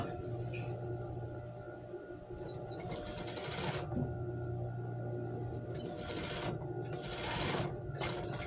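Sewing machine stitching blouse fabric for a teacher's uniform, running in several steady bursts of whirring stitches with short pauses between, close and fairly loud, with no talking.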